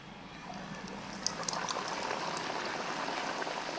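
A hotel-style dal puri drops into hot oil in a wok and fries with a steady, busy bubbling hiss and occasional small pops, moderately quiet and without talk.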